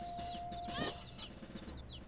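Video game chickens in a Majora's Mask Randomizer run cluck faintly, with a short squawk partway through, under busy game sound and background noise.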